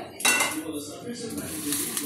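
A spoon scrapes and clinks against a metal pot while coconut rice cooked in coconut milk with a tempering is mixed. The clattering is close and steady, with a brief louder burst near the start and no talk over it.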